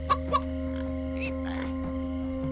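Chickens cluck in the video game Minecraft: Story Mode, two quick clucks close together at the start, then softer scattered chirps over a steady humming game ambience.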